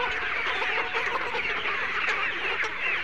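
Layer hens in a poultry shed on a winter morning cluck and chatter continuously, a dense nearby flock with overlapping calls.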